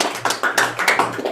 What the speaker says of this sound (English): Let's give him one more big round of applause for that.